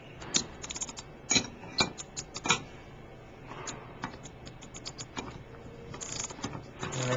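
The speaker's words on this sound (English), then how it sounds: "Then you take your ratchet and your wrench." Ratchet and wrench tightening a power steering pump bolt, with quick bursts of close mechanical clicks, several sharp clusters early and then softer, irregular ticking.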